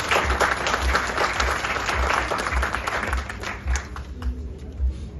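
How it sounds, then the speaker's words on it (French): Audience applause rings out at an official opening ceremony in Senegal, a dense, sustained wash of many hands clapping with a steady low thumping beat beneath it, easing slightly toward the end. "sous vos applaudissements"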